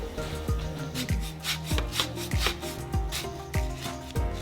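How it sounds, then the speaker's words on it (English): Lemon zest is grated for ricotta lemon pancakes, a close, steady rasping scrape repeated in rhythmic strokes about every half second, with no talk. "Grate lemon zest."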